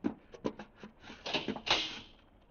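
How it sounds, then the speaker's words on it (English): A door opens with a series of short knocks and clicks, followed by a brief creaking slide, close by and fairly quiet with no voices. "Earthman, you will rise from your seat and open that door."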